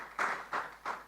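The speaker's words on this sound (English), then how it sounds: "Let's give him a deserving round of applause." Audience applause at a national cyber security conference, heard as a short, moderately quiet patter of clapping that swells in three brief waves.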